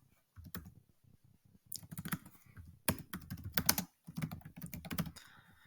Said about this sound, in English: Pope Francis, let me type him in for you guys.